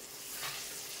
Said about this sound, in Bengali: এক ধাপ মাছ ভাজা হয়ে গেছে, আর এক ধাপ হচ্ছে